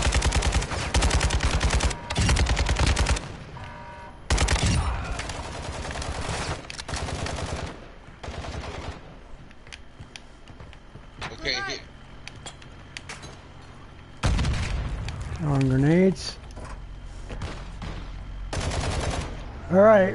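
Bursts of gunfire in a PS4 shooting game, loud crackling volleys starting and stopping in several clusters over the span, with quieter gaps between and faint game sounds in the background.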